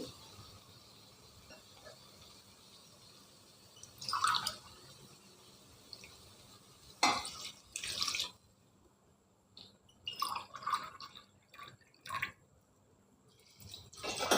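Water is poured into a pot of basmati rice for chicken biryani in short, quiet bursts of splashing and trickling, separated by near-silent pauses in a home kitchen.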